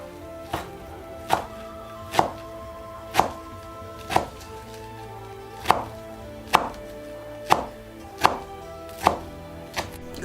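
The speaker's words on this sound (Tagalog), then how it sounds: "Hiwa po tayo ng green leaves pang ibabaw." Steady knife chopping of green leaves on a cutting board for a baked chicken topping, about a dozen evenly spaced crisp thunks, close and alone with no talk.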